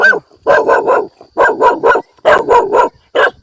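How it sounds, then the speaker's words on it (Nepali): Dogs bark in sharp, loud bursts close by at a Nepali village during rice planting, a quick run of barks followed by pauses and further clusters, with no talk over them. "कुकुरहरू पनि आएको रहेछ नि त"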